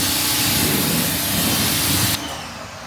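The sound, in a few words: spray rinse while detailing an abandoned Datsun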